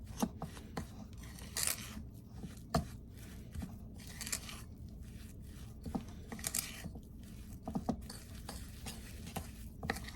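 Cookie batter with a tablespoon of liquid egg whites being stirred and combined in a bowl, giving steady scraping and knocking strokes with a few sharper clinks, close and moderately loud, no talking.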